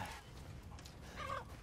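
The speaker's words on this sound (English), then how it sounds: "Dang, they got chickens and everything. How are them chickens still alive?" A chicken gives a short, quiet cluck in Resident Evil Village, a brief call near the end over soft game ambience.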